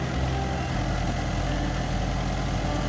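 A Mahindra 575 DI Bhoomiputra tractor engine runs steadily with a low, even rumble and vibration, close and continuous throughout with no voices.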